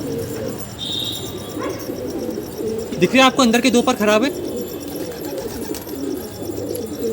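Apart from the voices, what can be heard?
pure white pigeon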